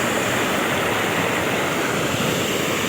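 Floodwater overflows a check dam after heavy rain in Amreli farm country, a loud, unbroken rushing roar close by with no voices.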